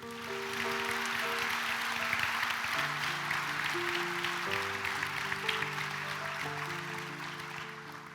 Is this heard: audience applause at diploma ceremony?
yes